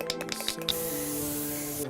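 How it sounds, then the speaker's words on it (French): Dye penetrant is sprayed from a can onto a part for non-destructive inspection, starting with a few short bursts and then settling into one continuous close hiss, with no talking. "je vais appliquer ce qu'on appelle un pénétrant, qui va aller dans toutes les aspérités de la pièce"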